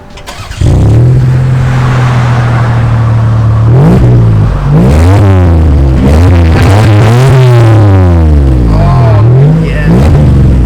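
A Lexus ES250 with a six-cylinder engine starts up and idles loudly, then is revved repeatedly in rising and falling sweeps before settling back to idle, heard up close with a deep, smooth tone.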